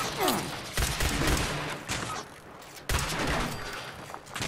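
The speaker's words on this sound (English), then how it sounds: "Machine gun turret's almost toasted." A machine gun turret firing in the video game Fallout 76, with two dense bursts of rapid gunfire at moderate loudness and a brief lull between them.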